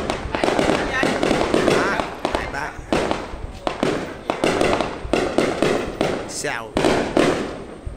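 Fireworks at a 2023 district display in Vĩnh Thuận burst in rapid, irregular volleys of loud crackling explosions, one after another, with people talking nearby between the blasts.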